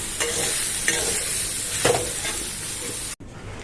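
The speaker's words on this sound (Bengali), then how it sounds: "এই যে সয়াবিন ভাজা করছি, সয়াবিনটা ভেজে নিচ্ছি" Soybean chunks fry in a pan with a loud, steady sizzle and a few scraping stirs, close up, before a brief sudden break near the end.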